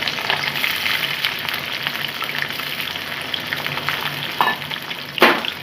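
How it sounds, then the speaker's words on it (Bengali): Sliced capsicum and spring onion greens frying lightly in oil for a quick chicken curry, a steady close sizzle with soft crackle throughout and a couple of sharper spatters near the end, no voices. "এই তেলেই আমি একটা ক্যাপসিকাম দুটো পেঁয়াজের পাতা খোলাগুলো এইভাবে কেটে রেখেছি এগুলোকে আমি খুব হালকা ভেজে নেব"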